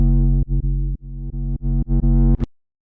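A reversed bass sample sequence where each repeated note fades in and then cuts off sharply, giving a rhythmic chain of swelling, warping, distorted low tones that end in silence.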